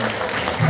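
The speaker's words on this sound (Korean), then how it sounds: "다시 한번 도종환 시인님께 뜨거운 박수 부탁드리겠습니다." Audience applause for a poet at a lecture event in Seogwipo, a brief burst of dense clapping that swells slightly toward the end, with faint voices mixed in.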